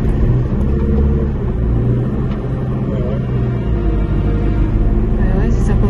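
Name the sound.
car wheels spinning in mud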